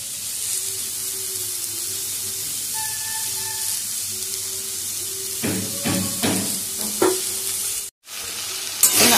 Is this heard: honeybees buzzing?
no